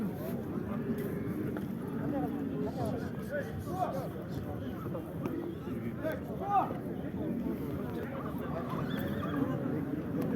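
Horses neighing and whinnying at a busy livestock market, several calls rising over a steady crowd babble of people talking, with occasional hoof clops nearby.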